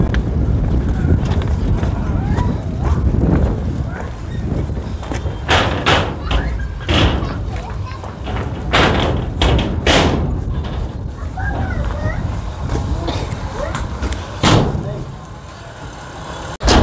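A ferry launch pulls away from the riverside ghat at Guptipara bound for Shantipur in West Bengal, with a steady low engine drone, wind buffeting, and scattered thumps and knocks running through the crossing.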